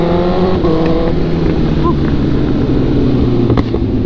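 A Kawasaki ZX-636 sport motorcycle runs loud and close on an open road, its engine holding a steady buzzing drone with slight rises in pitch, wind rushing throughout.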